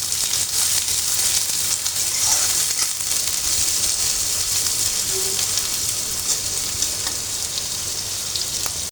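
Chopped onions fry in a pan with a steady, close sizzle that crackles evenly throughout, alone with no voices.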